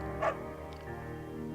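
A single short bark from a beagle in the Firewatch video game, heard once over a steady musical background.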